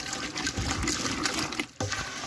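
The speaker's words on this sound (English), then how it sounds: "so I'm going to give it a quick stir" Vinegar-based relish mixture being stirred in a pot, giving a steady liquid sloshing and swishing that fills the clip, with a brief dip near the end before the stirring resumes.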